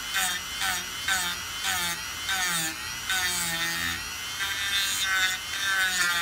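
A Dremel rotary tool carves grooves into a wooden stamp: a close, steady high-pitched whine with rasping, rubbing pulses as the bit bites and lifts from the wood, with no voices.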